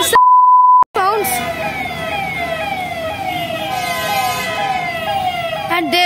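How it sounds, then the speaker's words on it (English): After a short electronic beep, an ambulance siren wails loudly in repeated rising and falling sweeps as the vehicle passes close by. "there goes the ambulance finally"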